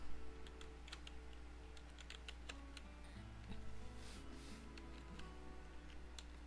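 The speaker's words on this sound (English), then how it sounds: "have to awkwardly type on my computer's keyboard." Keys clatter on a computer keyboard in an irregular run of quick, faint clicks over a steady low hum, with no talking.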